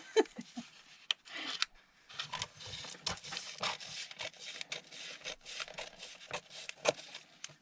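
Scissors cutting through a vintage magazine page close up, a run of papery rasping snips and rustles in uneven bursts after a short pause, with no talk.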